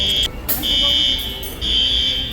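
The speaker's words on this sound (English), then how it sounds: "Since the fire alarm's going off, I don't know who pulled it." A fire alarm sounds inside a Goodwill store, a loud high-pitched electronic tone pulsing in long on-off bursts with a brief gap and a clatter between them.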